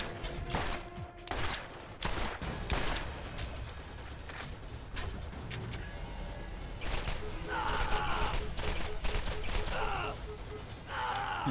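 Pistol gunfire in the video game Borderlands crackles in a rapid, repeated burst of sharp shots amid other game effects, with a player's sighs and murmurs mixed in.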